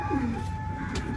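Madrasi pigeons coo in a pigeon loft, a single soft, low call close by over a steady background hum.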